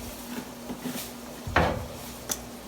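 A can of Rotel diced tomatoes and peppers being opened with a can opener in a kitchen: a soft scrape, then one sharp metallic clunk and a brief click, close by and otherwise quiet.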